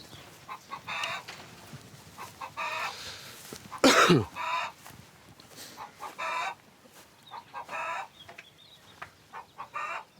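Chickens clucking and murmuring nearby on a farm in short bursts, with one sharp squawk partway through and quieter background clucks throughout.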